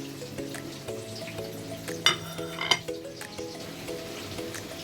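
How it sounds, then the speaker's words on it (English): Potatoes frying in oil for Hyderabadi chicken tahari give a steady close sizzle, with a couple of sharp utensil clinks partway through and no voices. "Let this fry on one side, then I will flip it"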